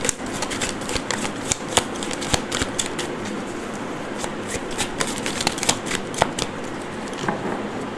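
Tarot cards being shuffled by hand, a steady run of crisp riffling flicks and snaps, close and moderately loud, with no talking.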